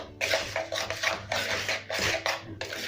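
Sugar and carbonate are worked into scone dough by hand, giving soft repeated rubbing and scraping strokes in a steady rhythm at close range.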